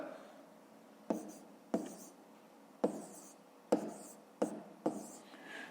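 Pen writing numbers by hand on paper while working a fifth-grade division exercise, quiet scratching strokes with several sharp taps as digits are set down, close and faint, with no speech.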